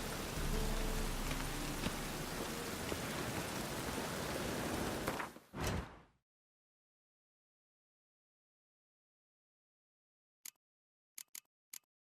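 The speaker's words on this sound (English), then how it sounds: "Raining again." Steady rain falling in The Witcher 3 video game, a loud dense hiss that stops abruptly, followed by silence and a few sharp ticks.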